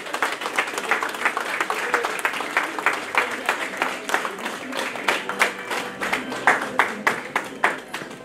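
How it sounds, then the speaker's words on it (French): Wedding guests in a reception hall applaud as the groom walks in, a sustained round of many hands, with a rhythmic clapping pulse growing more pronounced toward the end. "Sous vos applaudissements, s'il vous plaît."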